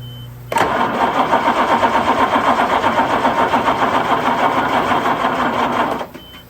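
A truck engine cranks and catches at about half a second, then runs steadily with a loud, even chugging pulse for roughly five seconds before shutting off abruptly near the end. No one talks.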